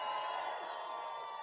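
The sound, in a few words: crowd applause and cheering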